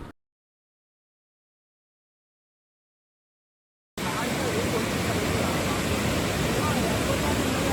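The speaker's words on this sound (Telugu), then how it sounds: "ఆ వాటర్ ఫ్లో అండ్ ఆ వాటర్ చేసే శబ్దాన్ని వింటుంటే" A steady, dense rush of flowing water fills the second half after a few seconds of near silence, loud and unbroken.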